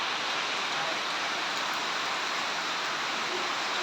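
Rain pours down steadily at a temple in Sakon Nakhon, Thailand, a dense hiss, even and continuous without breaks.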